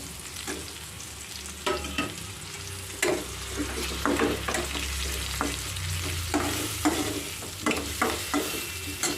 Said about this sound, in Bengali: দিয়ে দেবো পেঁয়াজ কুচি তা একটু হালকা ভাজা ভাজা হয়ে গেছে এবার দিয়ে দিচ্ছি টমেটো কুচি